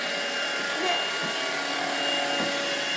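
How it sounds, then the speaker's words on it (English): A vacuum cleaner runs steadily over a floor while a one-year-old cleans, its loud constant whine filling the room, with a voice faintly heard over it. "Vacuum that floor."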